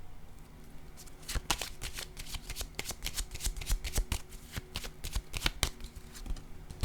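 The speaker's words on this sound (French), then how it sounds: "Je vais déposer une carte sur celle de la famille." Playing cards laid down one by one on a table during a tarot-style reading, giving a string of crisp, close taps and soft slaps in uneven rhythm with no talk.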